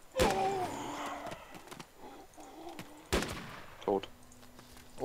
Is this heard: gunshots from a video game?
yes